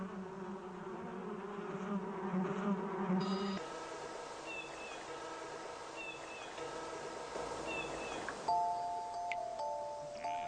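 Bumblebees buzzing around a garden hive as queens leave the colony, a steady close insect drone with shifting pitch and several overlapping buzzes, plus brief high tones, with no voices.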